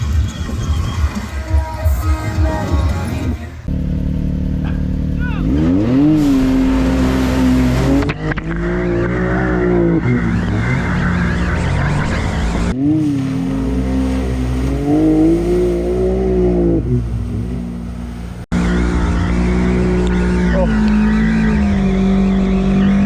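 An off-road vehicle on fresh new tires rips around a wooded trail, its engine loud and close, revving up and down in repeated surges with pitch climbing and dropping, and no voices over it.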